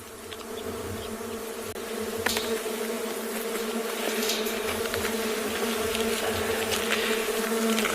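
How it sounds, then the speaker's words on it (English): A large colony of leaf-cutter bees buzzes constantly at close range, a dense, steady drone with occasional louder passes of individual insects, outdoors on an African safari reserve at sunset. "You can hear the sound, the constant buzzing around us."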